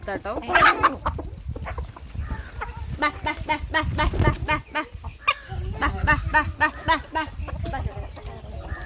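Native country chickens cluck busily and repeatedly up close as they are fed, a rapid chorus of short calls from several birds with occasional louder squawks.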